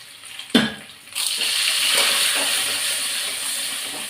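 Garlic and rock salt sizzle in hot oil in a pan, a sudden clattering drop followed by a loud, steady hiss that continues to the end.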